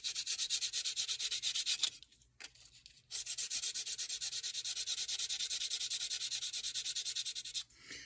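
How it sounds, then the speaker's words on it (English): Sandpaper rubs steadily back and forth over a trimmed surface in a rapid, even rhythm, stopping briefly twice before resuming for several more seconds, close and fairly loud with no talking. "grab your sandpaper, and start sanding it all down again"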